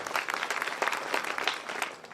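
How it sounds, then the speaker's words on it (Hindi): Audience applause at a kavi sammelan poetry gathering, a dense, steady patter of many hands clapping together, fairly loud and continuous throughout with no voices over it. "आप उनके लिए मेरी तरफ से एक बार तालियां बजा रहे हैं"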